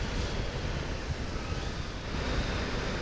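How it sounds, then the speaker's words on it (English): Strong wind buffets the microphone in a steady, heavy roar with low rumbling gusts throughout, no voices. "it's very, very windy."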